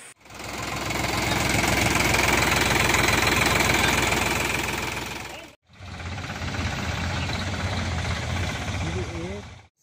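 A tractor engine seized for illegal sand transport runs with a loud, close, steady knocking chug, cutting out briefly midway before resuming.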